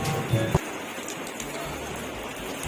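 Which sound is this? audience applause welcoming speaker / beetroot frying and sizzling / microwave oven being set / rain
rain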